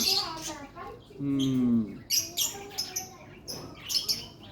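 Birds chirp and squawk in short calls amid voices of people and children talking nearby.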